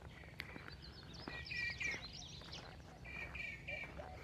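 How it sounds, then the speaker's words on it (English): Several birds chirp and tweet in short bursts nearby and farther off in the early morning at a Texas state park, over a quiet outdoor background with faint rustling. "I love the birds early in the morning."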